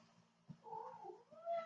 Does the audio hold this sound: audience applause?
no